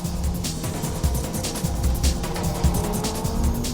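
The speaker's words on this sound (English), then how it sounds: "Orito's Lancer takes the uphill." A Mitsubishi Lancer race car climbs uphill with a steady, loud engine drone and regular low rhythmic thumps, heard close and continuous with no talk.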